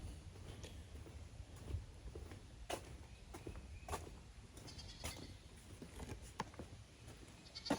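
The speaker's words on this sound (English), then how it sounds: "Oh, here are the goats down there." Goats bleat now and then in the distance below a pole barn over a steady low outdoor rumble, with occasional footsteps nearby.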